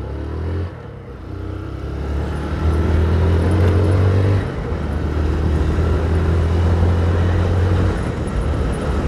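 Car traffic at a city intersection in Natal at lunchtime, loud and close, with a steady engine drone that swells as a vehicle accelerates and holds a sustained tone over the road noise.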